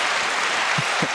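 A studio audience applauds in a brief, dense burst of clapping, steady and fairly loud, with a couple of faint low thumps near the end.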